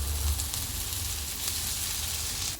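Poha frying in a pan with tomato, chili and curry leaves gives a steady, close hiss of sizzling over a low rumble, even and unbroken throughout.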